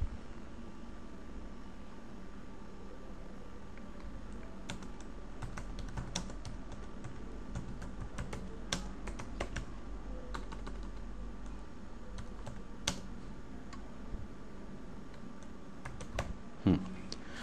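Computer keyboard typing in a quiet room, a steady stream of light, close key clicks with brief pauses over a faint background hiss.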